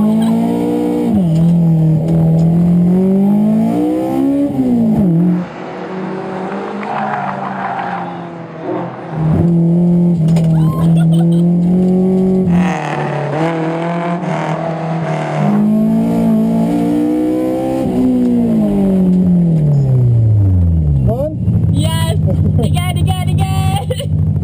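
Toyota AE86 engine revving hard with repeated rises and falls through gear changes and tire squeal, loud and close, with no talk.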